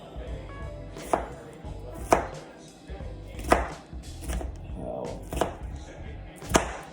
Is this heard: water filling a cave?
no